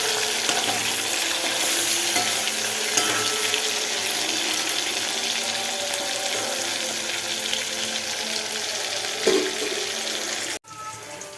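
Steady frying sizzle and crackle of chicken pieces in hot oil, a dense hiss, with a brief clatter near the end before it drops away.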